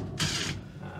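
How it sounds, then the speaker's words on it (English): A wrench works a bolt loose from a leaking fuel tank aboard a fishing boat, giving a short, close ratcheting burst of about a third of a second against a low background hum. "Just taking the bolts out of this tank and mounting it to the wall."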